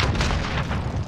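A Molotov cocktail bursting into flames in a first-person shooter's Demolition mode: a dense, rumbling, boomy blast that fills the whole moment at steady loudness, with no voices over it.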